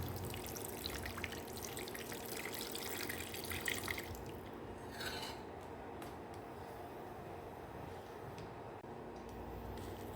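Cooking water poured from a pot of boiled mutton into onions in a cooking pot, giving a steady, faint liquid pour and trickle with a low background hum throughout and no talking.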